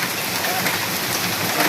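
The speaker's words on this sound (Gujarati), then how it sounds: "હવે ભાઈ જોરદાર વરસાદ ચાલુ થઈ ગયો રાજકોટમાં." Heavy rain with hail falling in Rajkot, a dense continuous roar of downpour heard close and loud throughout.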